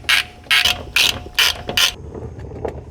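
A ratchet wrench bolts parts onto a 1968 Ford Mustang convertible, giving five loud, close bursts of rapid clicking in an even rhythm, followed by quieter scattered metallic ticks.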